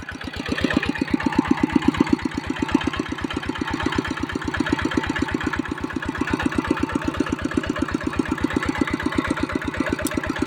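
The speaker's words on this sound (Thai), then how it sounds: "ใช้งานจริงเลยนะครับ สูบน้ำนะครับนี่ มันเครื่องปั๊มดีครับ ดึงน้ำนะครับ" Kubota ET95 single-cylinder diesel engine in a Big Jiw frame pumping water, a loud, close, steady rapid thumping chug that stays even throughout, with no talk.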